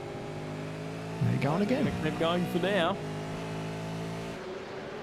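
Race cars in a sim racing game hum steadily with sustained engine tones throughout, while a commentator speaks briefly over them in the middle.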